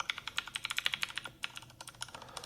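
AI-generated keyboard typing from a Google Veo 3 clip: rapid, crisp keystroke clicks in a steady fast rhythm, close and clear with no voices.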